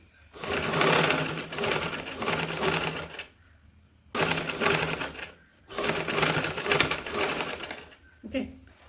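Sewing machine stitching a fabric mobile pouch, running loud in three long steady bursts with short pauses between, ending in a brief final stitch.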